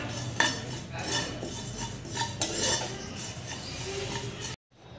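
Carom seeds (ajwain) are dry-roasted in a hot kadhai, with a spatula scraping and stirring them in a close, scratchy rhythm of light rattles and clinks that cuts off suddenly at the end.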